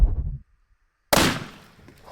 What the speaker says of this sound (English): That sounded like a secondary gunshot.